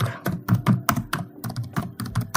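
A search being typed on a computer keyboard, heard as quick, close, uneven key clicks in short bursts and pauses, with no voice.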